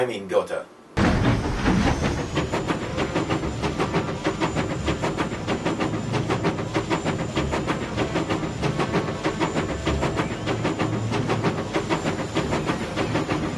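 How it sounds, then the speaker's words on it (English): Steam train ride toward Gotha in Medal of Honor Frontline: steady rhythmic clacking and chuffing with a constant hiss and a faint high whine, continuous and close, with a voice talking over it. "When that's done, you can hop another train and ride it to Gotha."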